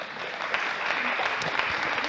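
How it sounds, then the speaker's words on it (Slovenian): Audience applause for a second-place prize winner at a Slovenian event on women's careers in computing, a steady, full wash of clapping across the room with a few faint voices mixed in. "Čestitke, en aplavz za Barb."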